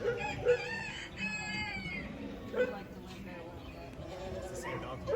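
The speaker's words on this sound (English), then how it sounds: "that's a rooster on top of the mailbox. And then there's the hen." Chickens cluck and call in short bursts over a steady background, with a rooster perched on a mailbox and a hen among them, moderately close.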